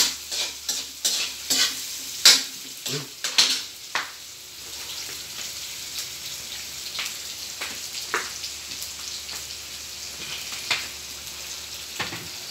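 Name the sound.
spaghetti sauce frying and stirred in a pan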